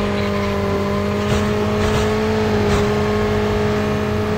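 A car driven in Call of Duty: Mobile, its engine a steady, close, humming drone with a strong tonal whine that holds almost level throughout and no speech.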